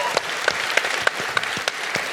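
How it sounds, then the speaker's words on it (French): A comedy show audience in Sherbrooke applauds a performer: a short burst of steady clapping with a few sharp, close claps standing out, alone without talk. "Vous pouvez l'applaudir, il le mérite."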